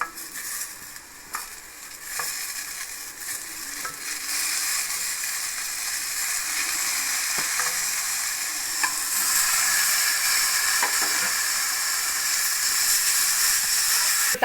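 Ripe tomatoes, chopped small, hit frying onions in a pan for a dhaba-style egg curry, giving a steady, loud sizzle with occasional stirring scrapes that lasts throughout, with no talking.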